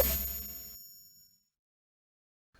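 A notification bell gives a single bright ding that rings out and fades over about a second, followed by silence and a faint click at the end.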